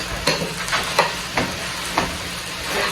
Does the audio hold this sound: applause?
no